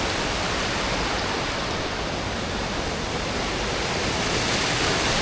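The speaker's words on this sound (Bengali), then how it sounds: "এই জলের শব্দটাই পাচ্ছিলাম।" A mountain waterfall near Dubdi Monastery in Sikkim, heard as a dense, continuous roar of rushing water that stays loud and unbroken throughout, with no voices.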